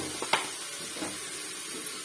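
Masala fries gently in a pan over a low gas flame, giving a soft, steady sizzle with a few faint clicks of a stirring utensil.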